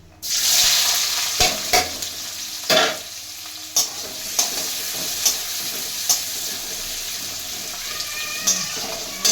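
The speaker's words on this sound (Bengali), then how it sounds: "এবার পেঁয়াজগুলো একটু ভেজে নেবো" Onions fry in hot oil in a wok, giving a loud, close, continuous sizzle punctuated by regular stirring scrapes and knocks roughly every second; no one talks.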